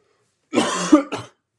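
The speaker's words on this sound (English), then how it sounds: "sorry for the coughs, dude" A person coughs into a close microphone during a basketball podcast, one rough burst followed by a shorter second cough, loud against an otherwise silent background with no talking.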